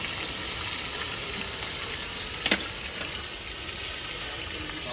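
Goat liver pieces fry in hot oil with a soft, steady sizzle that stays quiet and close, broken once by a brief sharp clack near the middle.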